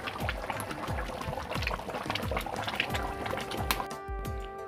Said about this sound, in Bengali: এই যে এখন কিন্তু উপর দিয়ে বলক চলে এসেছে।